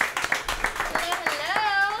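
A few people on a Tejano variety show clap for the group The Goods, scattered close hand claps, with a voice and a child's speech rising over them toward the end.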